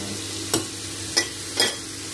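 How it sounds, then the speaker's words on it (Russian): Mushrooms frying in a pan over a campfire, with three distinct scraping stirs spaced about half a second apart over a steady low sizzle. "вот тут у меня жарится, тут у меня варится"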